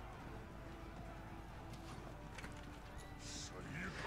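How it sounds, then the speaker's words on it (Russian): Horse hooves clip-clop as a mounted unit gallops off in the medieval strategy game Blood of Steel, a faint, steady patter beneath low battle ambience. "Ну и разумеется, он ускакал."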